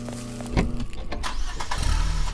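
A garbage truck engine in a video game cranks and sputters, struggling to start with uneven turning-over bursts and rumbling, a mid-level mechanical sound with no voices.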